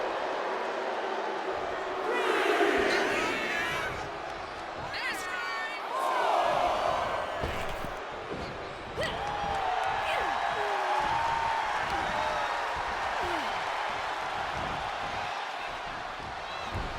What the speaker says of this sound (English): And Nia is revving this crowd up